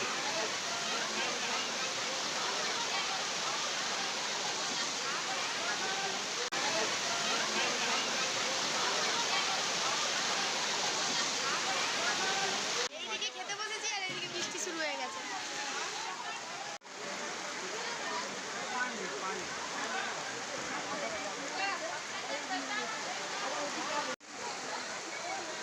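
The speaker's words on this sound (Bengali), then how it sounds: "খুব জোরে বৃষ্টি হচ্ছে।" Heavy rain pours down in a dense, steady roar during an annaprashan ceremony outing, close and loud throughout, with brief dips and a few handling bumps.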